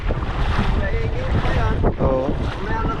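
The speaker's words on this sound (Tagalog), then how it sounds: "Malakas ang hangin." Strong wind roars and buffets the microphone continuously during bad weather, with water sloshing beneath and a voice calling out briefly.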